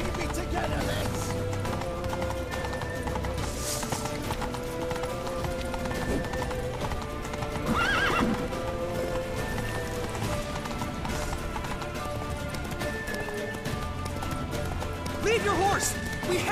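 In The Witcher 3, horses run with rapid clip-clopping hooves and an occasional neigh, mixed with shouting voices and background game music throughout.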